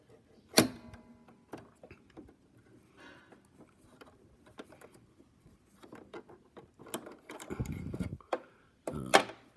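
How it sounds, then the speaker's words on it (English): A presser foot is taken off a sewing machine with a scatter of small metallic clicks and rattles, ending in a couple of louder clanks, close up in a quiet room. "let me get rid of my presser foot here for you"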